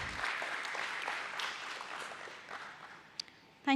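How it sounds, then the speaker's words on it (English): Audience applause at a stock exchange listing ceremony for Getalong Enterprise Ltd, a steady, fairly faint patter of many hands that fades slightly toward the end, followed by a brief voice. "Huge round of applause for Mr."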